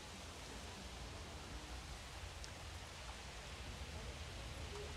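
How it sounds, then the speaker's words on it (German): Steady rain falls in the dinosaur park management game Jurassic World Evolution, an even, hissing wash of drops that goes on without pause at low volume. "Jetzt regnet es."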